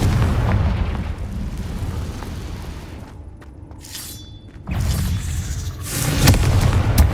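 A Bombarda blast spell detonates inside a cave in Hogwarts Legacy, a heavy boom with debris-like crackle, followed by a quieter lull and then further bursts of rumbling impact noise.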